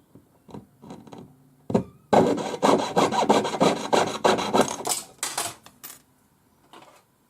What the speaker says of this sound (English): So I'm just going to cut this using my 4/0 blade.